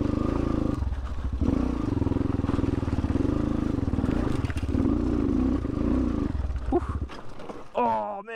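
A TBR7 motorcycle fitted with a performance camshaft rides over rocks. Its engine drones loud and steady, with rattling and scraping, then drops away near the end, where a brief voice sounds.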